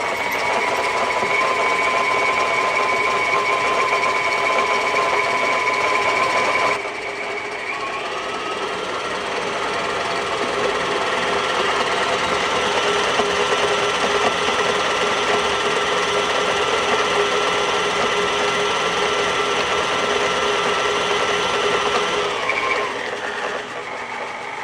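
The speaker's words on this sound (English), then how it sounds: "Give that a crank, and we're just going to beat this until it's well combined." An electric stand mixer beats cake batter with sugar for a peach torte, a steady loud motor whine that runs the whole time and shifts pitch slightly partway through, with no talking.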